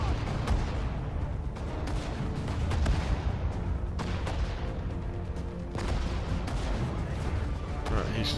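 Dense battlefield gunfire and artillery rumble from the PS4 strategy game Sudden Strike 4, with repeated sharp shot transients over a constant loud low roar and some talk mixed in.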